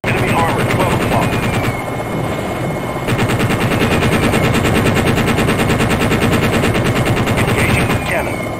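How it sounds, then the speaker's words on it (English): An Apache Longbow helicopter fires its cannon in a flight combat game, with loud continuous rapid-fire bursts over a steady rotor drone and faint radio voices underneath. "Engaging with cannon."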